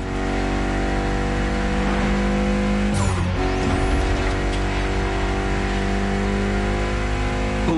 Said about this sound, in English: Mitsubishi gave us a nice inline 4-cylinder with already 280 horsepower that are gonna turn up a bit.